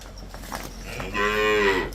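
A Jersey cow on a dairy farm lets out a single close, loud moo lasting under a second, with quieter farm background noise before it.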